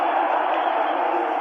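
Stadium crowd at the 1967 Ice Bowl NFL game between the Packers and Cowboys: a steady, dense roar heard through a narrow, old radio broadcast.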